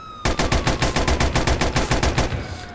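Automatic M16 rifle fire in a modded Grand Theft Auto IV, a loud, close burst of rapid shots, around fifteen cracks in quick succession with no talk.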